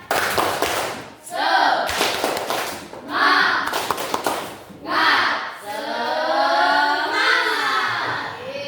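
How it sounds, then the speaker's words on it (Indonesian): Classroom group doing a 'tepuk semangat' cheer clap, loud bursts of rhythmic clapping in several sections mixed with children's chanting voices, the last stretch more sustained voices. "Coba sekarang sebelum kita ke tujuan pembelajaran, kita tepuk semangat dulu, ya."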